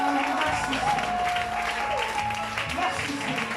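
Congregation applause at a French-language church service during a sermon on spiritual combat, steady clapping filling the room with speech-like voices mixed in underneath.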